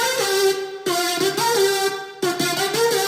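A track's lead remade on synths for a drum and bass bootleg: a bright, buzzy sawtooth lead plays a rhythmic riff of short stabbing notes with pitch slides, loud and alone, cutting out briefly twice.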